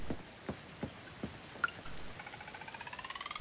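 Rain patters in the Coral Island farming game, faint scattered drops at first, then a quickening run of small regular ticks, quiet and alone.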